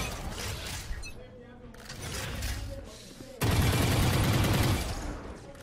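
Gunfire from a weapon in the video game Valorant crackles in quick bursts, growing into a loud sustained volley near the end, with a player's voice talking under it.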